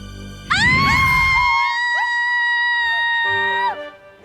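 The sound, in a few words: woman screaming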